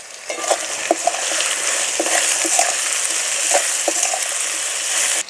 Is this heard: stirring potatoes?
yes